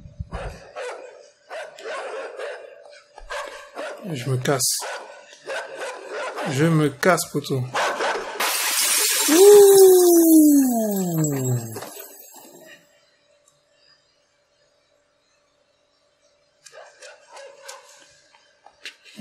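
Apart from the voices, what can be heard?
dog barking in the video game Inside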